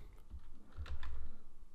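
Typing on a computer keyboard, a few quick clustered key presses at close range, loud and clear with no talking.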